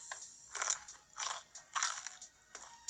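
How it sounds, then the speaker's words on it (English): Crisp, close bites and crunches of a raw carrot, four distinct chomps spaced across a few seconds, used as a foley stand-in for a horse eating, with no voices. "For example, Stéphane eats a carrot to imitate the sound of a horse"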